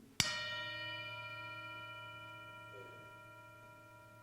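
A meditation bell struck once at a spiritual community gathering, with a sharp attack and a long, steady ringing decay of clear overtones that fades slowly over several seconds in a quiet room.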